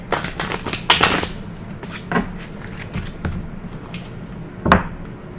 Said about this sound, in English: just shuffling the cards real quick.